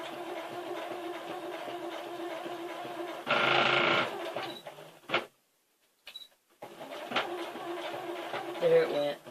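Lace is stitched on a sewing machine in short bursts of mechanical whirring with pauses and clicks, while a person talks throughout.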